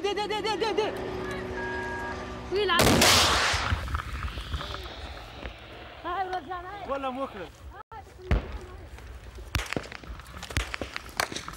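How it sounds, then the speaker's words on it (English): Police shooting back from moving vehicles on a foggy road, a loud sharp crack of gunfire followed by a few more distant reports, with voices and engine noise around them. "Through the fog, the police shoot back as they continue driving north."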